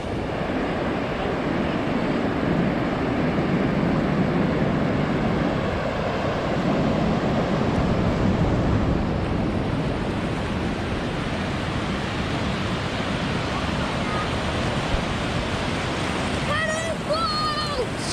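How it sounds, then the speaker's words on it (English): Atlantic Ocean surf rolls onto the beach at Costa da Caparica, Portugal, a continuous broad wash of breaking waves heard steadily and fairly loud throughout, with faint voices near the end. "the Atlantic Ocean from the other side"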